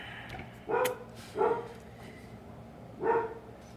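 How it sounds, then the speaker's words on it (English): Three dog barks ring out at uneven intervals, somewhat distant, with quiet background between them. "I don't know why the dogs are barking."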